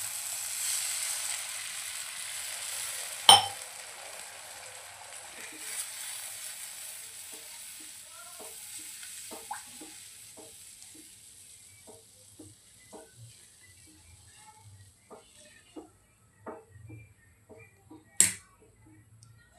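A burst of sizzling hiss as water hits hot oil and masala for Bombay duck fish curry, slowly dying down, followed by scattered crackles and small pops from a hot pan.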